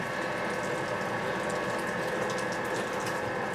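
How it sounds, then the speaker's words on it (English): An indoor space heater runs with a steady, quiet mechanical whir and faint rattling, unbroken from start to finish, with no one speaking. "Sorry for the sound of the heater there."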